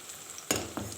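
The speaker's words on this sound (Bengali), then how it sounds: "মশলাটাকে একটু ভেজে নেব।" Ground cumin, coriander and Kashmiri chili powder hitting hot oil in a pan, two short bursts of sizzling with a brief stir, faint and close.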